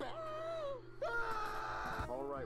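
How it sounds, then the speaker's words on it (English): A creepy toy lets out wailing, moaning screams, with a long rising-and-falling wail followed by a louder strained cry, close and fairly clear. "That's a scream."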